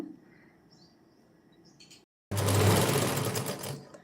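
Sewing machine stitching a long frock for a haldi function, heard as a loud, steady mechanical whir in the second half after a quieter stretch and a brief pause.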